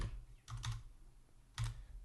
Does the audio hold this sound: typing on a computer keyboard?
yes